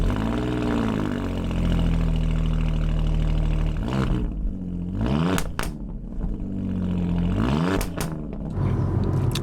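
An Alfa Romeo Giulia Quadrifoglio's deep, throaty engine idles loudly with exhaust valves open, its exhaust rumbling, punctuated by brief sharp blips and clicks.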